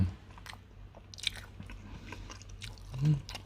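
Close-up biting and chewing of microwave-cooked Thai green curry with cockles and hot rice, soft moist crunches and chews repeating over a few seconds.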